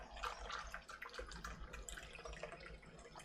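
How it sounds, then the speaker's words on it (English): Broth pours from a carton into simmering risotto, a soft, continuous liquid splashing and trickling that stays faint throughout. "I'm gonna pour the rest of this carton in"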